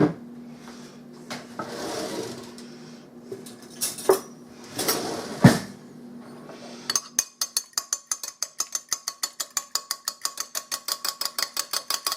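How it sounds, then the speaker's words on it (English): An egg beaten in a bowl for mac and cheese: after some clattering of dishes and utensils, a fork whisks rapidly against the bowl in a fast, even run of sharp clicks, close and alone. "You're gonna get one beat egg that I'm about to beat."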